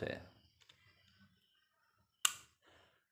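A sharp click from a seat lever on a Chamber MAXX GS88 chamber stands out once, loud and close, after quieter rustling handling sounds; no one speaks.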